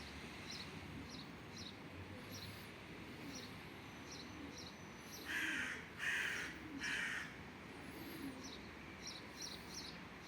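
Young birds on a rooftop give repeated crow-like caws and chirps, several louder calls clustered in the middle over steady outdoor background noise.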